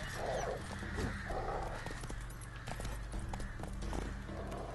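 Rhythmic horse hoofbeats clip-clop steadily while a wild dog barks and yips close by in The Witcher 3: Wild Hunt, with occasional whinnying from the horse.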